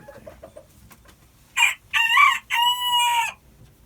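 Hamburg bantam chickens nearby, starting with a few soft clucks, then a loud, near crow broken into several bursts that rings out over a quiet background.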